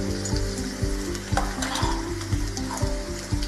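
Green chilies, chopped shallots, ginger and curry leaves fry in hot oil in a pan. A loud, close sizzle runs throughout, punctuated by regular scraping stirs.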